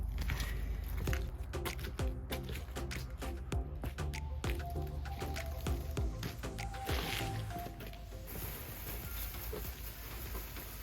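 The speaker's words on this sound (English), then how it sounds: "finally time to rinse it all off" Water sprays steadily over a tractor being rinsed off, a continuous close hiss and splatter with a low motor hum running underneath throughout.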